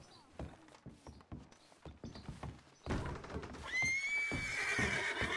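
A horse in the Red Dead Redemption 2 video game whinnies loudly and at length in the second half, after a run of dull thuds and hoof-like steps. Faint voices may sit in the background.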